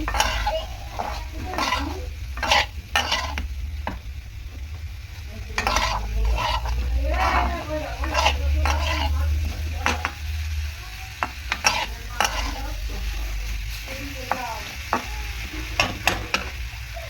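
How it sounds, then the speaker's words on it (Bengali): Vegetables dusted with cumin powder sizzle in a pan, while a spatula scrapes and clatters against the metal in repeated bursts over a continuous frying hiss. "এরপর একটু জিরে গুঁড়ো দিয়ে দেবো, দিয়ে আবারও ভালো করে নাড়াচাড়া করে নেব।"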